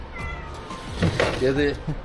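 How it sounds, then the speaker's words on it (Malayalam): A cat meows on a Gulf street, several close, clear mewing calls over background street noise. "പൂച്ച"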